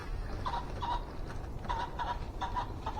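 A rooster pheasant flushes during a pheasant hunt in Connecticut, giving a few short, repeated calls at moderate distance over steady outdoor background noise.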